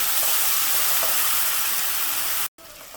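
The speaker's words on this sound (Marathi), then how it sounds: "आता ह्यामध्ये मी टॉमॅटो प्युरी घालते जे आपण मिक्सरला टॉमॅटो बारीक करून घेतले ते घालते आणि चांगलं आता तेल सुटेपर्यंत परतून घ्यायचं आहे" Tomato puree sautéing in oil with onion and ginger-garlic paste for palak paneer, a loud, dense hiss and sizzle close by that cuts out briefly, then resumes more quietly.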